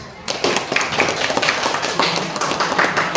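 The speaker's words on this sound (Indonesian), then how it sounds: "Iya, beri tepuk tangan." Classroom clapping from a group of students, a burst of quick, uneven handclaps starting abruptly and continuing steadily at close range, with a few louder individual claps standing out.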